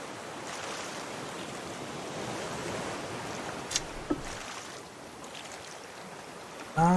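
A raft is paddled through cold water, with a steady wash of moving water and broadband splashing. Two brief knocks and a louder bump near the end break the flow.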